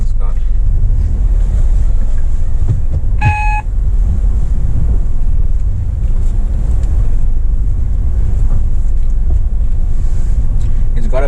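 A used Nissan Micra Active hatchback drives slowly through a tight turn, its engine a steady low rumble blended with road and wind noise, and a brief electronic beep sounds partway through.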